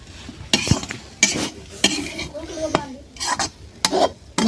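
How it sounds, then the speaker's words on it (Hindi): Momos being stirred and roasted in a pan over a gas flame, with a spoon scraping in short, uneven strokes over a soft sizzle. The scraping bursts come close and fairly loud, and no one talks. "उसको अच्छे से चला करके भून देती हूँ।"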